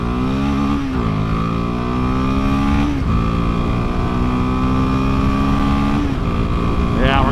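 Royal Enfield Himalayan 450 motorcycle accelerating on a freeway, engine note climbing steadily through three gears with clear pitch drops at each shift, loud and close under rushing wind.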